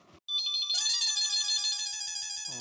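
A telephone rings indoors in a Hindi television sitcom, an electronic tonal ringtone with a steady melodic pattern that sounds loud and close after a brief silence, with no one talking over it.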